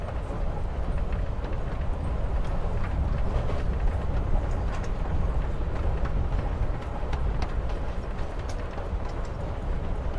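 Steady rumble and rhythmic clatter of a moving train in Life Is Strange: Before the Storm, a continuous ride sound that runs alone throughout.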